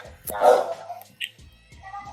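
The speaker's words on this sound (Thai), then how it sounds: "ขอโทษทีมีเสียงหมาเห่านิดหน่อย" A dog barks sharply a few times nearby, one louder bark followed by shorter yips and low sounds, with a person talking around it.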